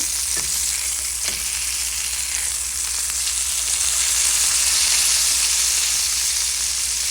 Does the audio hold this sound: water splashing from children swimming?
no